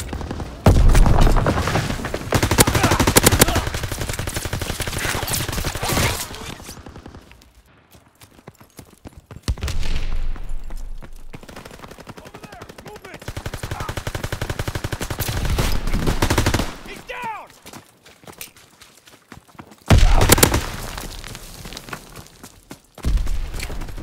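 MP40 submachine gun fire in Call of Duty WW2: loud, sustained rapid bursts up close, broken by short pauses and quieter gaps, with rattling automatic fire returning again and again across the stretch.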